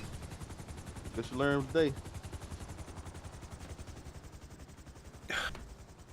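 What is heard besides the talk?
gunshots in the video game GTA 5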